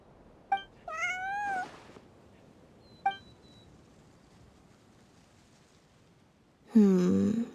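A cat meows in the video game Genshin Impact: three or four separate mews with quiet gaps between them, the last one loud, drawn out and close, over faint background ambience.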